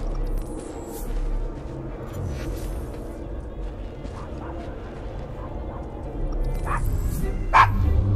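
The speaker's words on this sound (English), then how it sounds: "Is your dog quite all right?" Dog barking and whimpering in the video game Assassin's Creed Syndicate, a few short yips and whines over a murky street ambience, with a louder yelp near the end.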